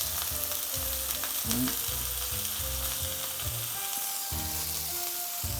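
Garlic and broccoli rabe saute in butter with roasted veggie spice over a high flame, giving a steady loud sizzle with a few scraping stirs and some tonal music in the background.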